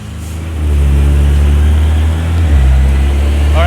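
Acura NSX engine on a chassis dyno, a loud steady drone that climbs in pitch as revs build, dips briefly, then pushes on again, close and filling the room.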